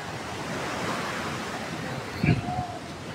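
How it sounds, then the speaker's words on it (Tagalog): Steady roar of strong sea surf with wind noise on the microphone, and a brief louder thump of a wave near the end. "Ang lakas ng alon ng dagat."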